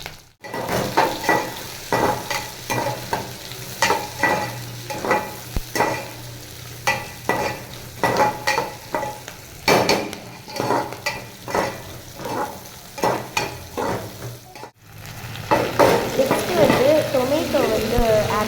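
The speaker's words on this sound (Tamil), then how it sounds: "ஆனியனும் க்ரீன் சில்லியும் எடுத்து நல்லா ப்ரௌன் கலர் வர வர நல்லா வதக்கி எடுத்துட்டேன்" Onions and green chillies sauté in sesame oil with spices for a chicken curry, a steady sizzle broken by repeated scraping stir strokes of a utensil against the pan, close and loud throughout.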